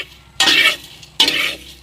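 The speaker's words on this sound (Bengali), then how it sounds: "চালের গুঁড়োর চইগুলো কড়াইতে ভেজে নেব।" Rice flour pieces stirred and frying in a hot wok give two loud, close bursts of sizzling scrape, each lasting about a third of a second, with quieter crackle between them.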